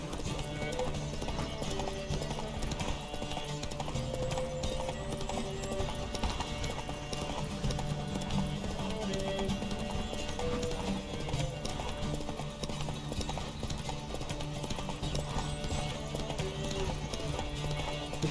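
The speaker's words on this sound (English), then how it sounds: "Don't spare the horse!" Horse galloping in The Witcher 3 video game during a race, steady rhythmic hoofbeats running continuously under game music and ambient noise, with occasional snorts.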